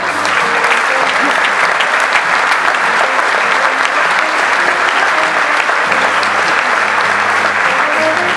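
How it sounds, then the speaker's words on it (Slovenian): Audience at Slovenia's Olympic Committee sports awards ceremony keeps up loud, dense, steady applause, with a faint murmur of voices underneath. "Še en aplavz za eno hitro fotografijo."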